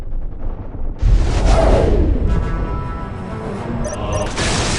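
A booming explosion erupts in the war strategy game Warhammer 40k Dawn of War Winter Assault, a loud sudden blast followed by a long rumbling decay.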